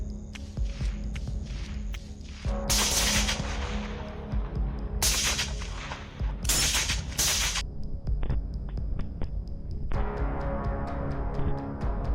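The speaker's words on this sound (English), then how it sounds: "Another precise and effective shot is fired." Rifle shots at a wild boar herd during a low-light thermal-scope hunt: several loud, sharp bursts that ring out briefly over a constant low hum, with softer thumps between them.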